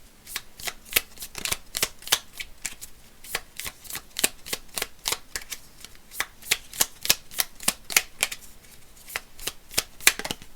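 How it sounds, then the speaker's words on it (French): Tarot cards shuffled steadily in hand, a long run of quick crisp riffling bursts repeating at a brisk even rhythm, close and fairly quiet with no talking. "je vais tirer la carte qui correspond à votre question"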